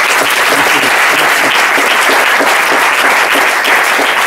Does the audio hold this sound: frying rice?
no